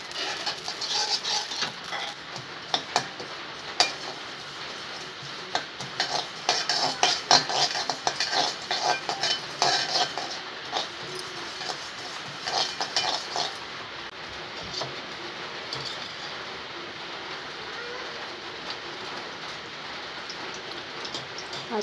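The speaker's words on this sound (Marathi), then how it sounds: "खसखस आपल्याला अशीच नॉर्मल पद्धतीत भाजून घ्यायची." Poppy seeds dry roasting in a pan over a low flame make a fine, dense crackle like rain patter, broken by occasional scrapes and clinks of a spoon against the metal.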